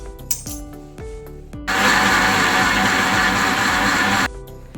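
An electric beater whirs loudly and steadily through cake batter of eggs and sugar for about two and a half seconds, framed by clinks and taps of utensils before and after.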